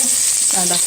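Onion fries in hot oil with mustard seeds in a pan, a steady loud sizzle with a short scraping stir over it in a brief moment.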